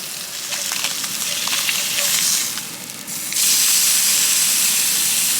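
Flounder fries in a hot pan with a loud, close sizzle and hiss. The sizzle dips briefly, then surges louder and steadier as more fish goes in.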